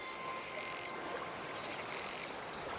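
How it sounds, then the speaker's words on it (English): Croaking of invasive poisonous frogs in a freshwater habitat, a faint, steady chorus with a few higher calls drifting over a constant background hiss. "these poisonous frogs are lethal to many species that make the mistake of eating them"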